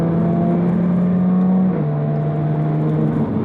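A Jaguar F-Type S Coupe's engine drops in pitch as the gearbox shifts down, a smooth sustained drone that steps lower partway through and holds, loud and close with no talking.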